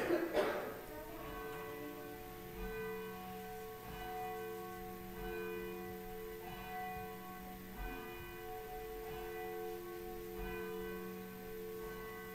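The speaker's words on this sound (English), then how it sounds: "come into God's house for the ringing of the bell to call us into God's" A church bell at a Methodist church in Paynesville, Minnesota rings out to call the congregation to worship, a strong first strike followed by slow, evenly spaced tolls whose ringing overtones hang and fade between each one.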